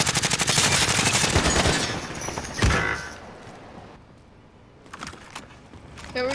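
Rapid automatic gunfire rattles in Call of Duty: Modern Warfare, a fast close burst followed by a single loud shot and scattered quieter firing and game sounds.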